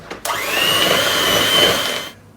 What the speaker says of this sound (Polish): Gdy mamy wszystkie składniki w miejsce, po prostu to miksujemy.